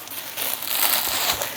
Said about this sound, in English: So I'm going to put some bubble wrap over his face.